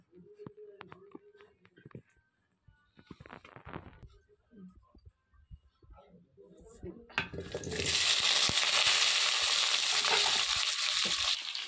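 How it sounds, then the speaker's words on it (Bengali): Potatoes dropped into hot oil in a pan, bursting into a loud, steady sizzle about two-thirds of the way through and frying continuously after some quieter clinks and handling sounds. "এবার তেল দিয়ে আলুটা ভেজে নেব"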